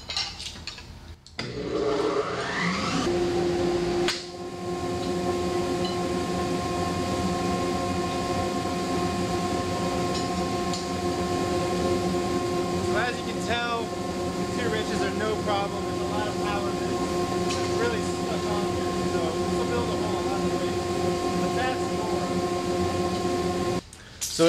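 An Oneida dust collector starts up after a brief rising whir, then runs loud and steady, a constant motor drone with a strong whining hum and occasional clatter of debris being sucked through, continuing until it cuts off at the end.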